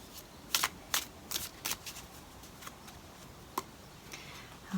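Tarot cards being shuffled and drawn up close, a run of crisp riffling bursts early on, then sparser single snaps and flicks as cards are pulled, with no talking.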